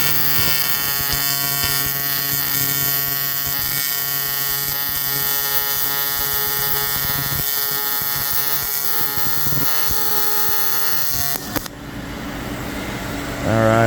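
TIG welding arc buzzes steadily and loudly for about eleven seconds, a continuous electric hum with harmonic tones, then cuts off into quieter shop noise and a brief tonal warble at the end.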